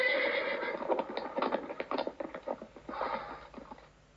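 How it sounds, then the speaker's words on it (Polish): A horse neighs loudly and whinnies with rising and falling calls, while its hooves clip-clop as it runs, close and clear with no talk over it. "Koń to duży ssak."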